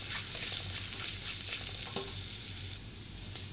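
Ginger and garlic fry in a pan with a dense, constant hiss of sizzling oil and faint stirring scrapes, close and even throughout, with no voices.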